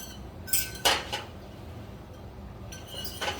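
A utensil clinks and scrapes against a pan while cream with salt and pepper is mixed, a few brief close metallic taps over a quiet background.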